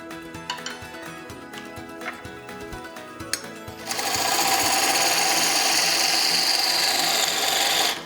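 A wood lathe turns a wooden blank while a tenon is cut, starting after a few seconds of light knocks and clicks and then running as a steady, loud, close whirring rasp to the end.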